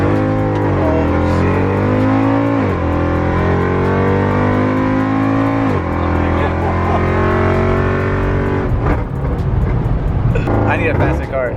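Straight-piped BMW M3 exhaust revving hard and very loud up close, with sustained high-rpm drones, repeated pitch sweeps as the throttle rises and falls, and crackling pops near the end.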